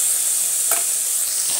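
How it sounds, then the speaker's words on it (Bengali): Poppy seed paste fries and is stirred in a pan, a brief, steady hissing sizzle with a soft scrape of the spoon. "আমি কিন্তু খুব ভালোভাবে পোস্তটা নাড়তে থাকছি"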